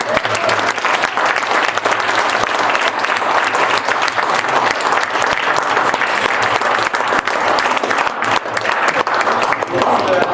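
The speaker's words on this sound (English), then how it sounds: "I'd like a round of applause of gratitude for our panelists" Dense, loud audience applause for panelists at a university climate change and energy discussion, continuous clapping filling the room for about ten seconds with crowd noise mixed in.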